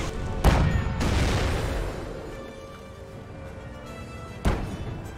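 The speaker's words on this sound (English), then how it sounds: "There's a mortar." Mortar rounds thud and explode in the World War II strategy game Company of Heroes, two heavy booms several seconds apart with a rumbling battlefield roar between them.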